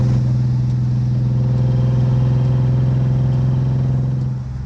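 A drift car's engine runs roughly and unevenly at a steady idle-like drone, a loud, close, rumbling note with a strong low hum that holds for several seconds before dropping off at the end.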